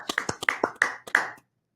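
Hands clap in quick succession, about seven sharp, close claps in an uneven burst followed by silence.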